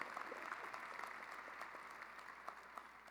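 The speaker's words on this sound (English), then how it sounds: "we deserve a clap for that" Applause for the graduating class at a fall commencement ceremony, a broad patter of many hands clapping, faint and distant across a large hall, steady throughout.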